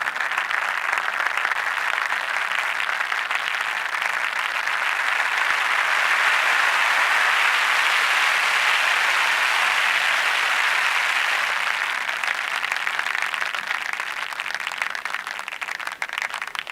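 Synthesized applause from a WMD Fracture Eurorack module, voltage-controlled to mimic a crowd clapping: a dense, steady wash of noisy claps holding for the whole stretch at even loudness, with no voices over it.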